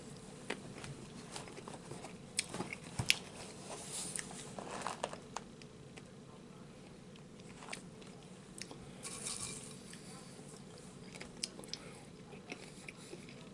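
Sugar Cookie Toast Crunch cereal being bitten and chewed close up, crisp crunches and scattered crackly bites spread through a quiet stretch with no talking.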